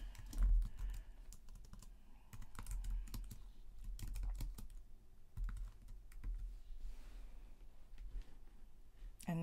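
Fingers typing a note on a computer keyboard, quick irregular bursts of close clicking keystrokes with short pauses between runs, fairly quiet.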